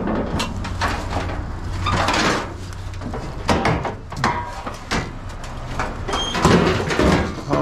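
Scrap metal doors being loaded, producing repeated loud metallic bangs, scrapes and clatters at irregular intervals, with some outdoor background noise.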